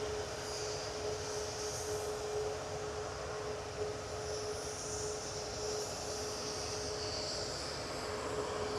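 A heavy Tui Boeing 737-800 jet airliner at Manchester Airport produces a steady, distant engine roar with a sustained whine, continuous and even throughout with no talking.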